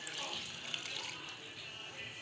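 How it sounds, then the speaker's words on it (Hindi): Water poured from a jug into a cooking pot of ground fennel, coriander, garlic, onion and green chilli for chicken stock, a steady close splashing rush lasting throughout without pause. "पानी शामिल करेंगे इसमें"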